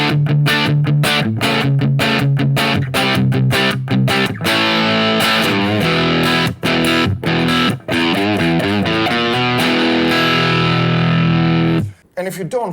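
Heavy, loud electric guitar drenched in distortion and effects, chugging through dense riffs with short rhythmic gaps, then cutting off abruptly near the end.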